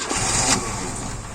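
A car engine cranks and fires up after spark plug and oil service, then settles into a steady mid-pitched running drone for the rest of the moment, close and fairly loud with no talking.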